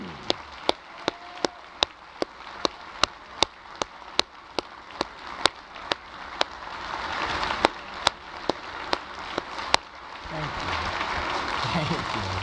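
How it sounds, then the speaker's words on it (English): An audience at the 2025 Oakland County State of the County event applauds veterans, a broad, sustained clapping that swells and holds across the hall, with sharp regular clicks sounding through it. "so can we give them a great round of applause, please?"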